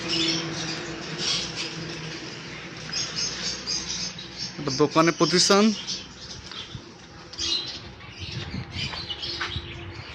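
Pet conures and lovebirds in a bird shop keep up dense, continuous chirping and squawking throughout, heard beneath someone talking nearby.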